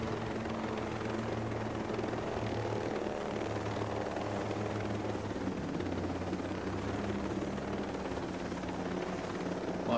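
A helicopter in the Ghost Recon Breakpoint video game, its rotor and engine producing a continuous low rumbling drone with a steady throb, alone and unbroken throughout.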